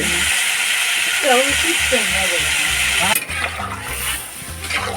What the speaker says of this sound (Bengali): ভাজা হয়ে গেছে সেজন্য আমরা একটু জল দিয়ে দিলাম